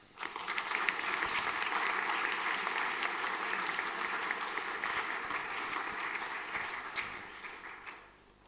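A school assembly audience applauds a student receiving junior chess colours, sustained crowd clapping for about seven seconds that thins and fades out near the end.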